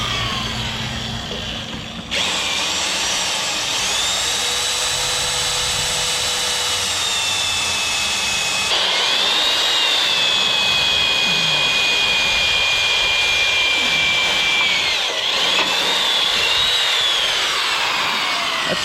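An electric drill bores through quarter-inch metal on a trailer job, giving a loud, close, sustained whine whose pitch dips and rises in several long passes over about nineteen seconds.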